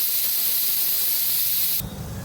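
Spiced masala water poured into hot oil in a pan for a village-style mutton curry, giving a loud, steady hiss and sizzle that drops abruptly to a quieter bubbling near the end.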